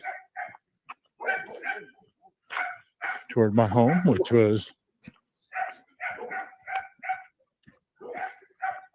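Repeated sharp barks from dogs in quick bursts, with a person speaking in the middle.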